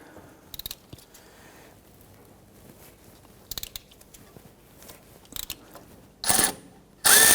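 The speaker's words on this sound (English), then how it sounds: "we're going to use our deep 14mm socket and pop it on our ratchet" Ratchet with a deep 14mm socket on an alternator bolt of a 2011-2015 Kia Sorento 2.4L L4, short bursts of quick clicking spaced apart, then louder, harsher ratcheting toward the end, close up.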